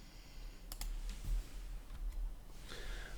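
A computer mouse clicks a few times in quick, sharp, close ticks while modelling in Plasticity 3D software, over a quiet background hum.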